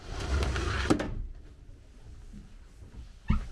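Roll-up garage-door style cabinets aboard a 32-foot cruiser boat: a rolling rumble as a door slides, a clunk as it stops, then quiet and a second knock near the end.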